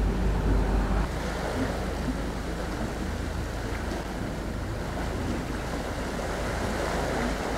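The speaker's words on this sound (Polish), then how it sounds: "Dosyć silny strumień wody odpycha nam kadłub." Strong water pours into a canal lock and pushes against a houseboat's hull, making a constant rushing, roaring wash that stays steady and fairly loud throughout.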